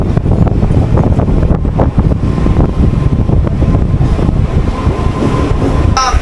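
A Howrah to Digha local train runs into Tamluk station with a loud, continuous rumble, wheel noise and wind buffeting, then a brief sharp sound near the end.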